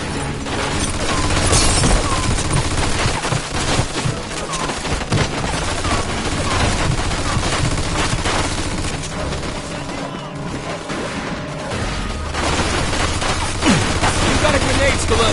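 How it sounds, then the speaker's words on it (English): Rapid machine gun fire rattles continuously in a Mafia II shootout, loud and close, mixed with other gunshots and mechanical clatter while voices talk over the gunfire. "Looks like we found the machine gun."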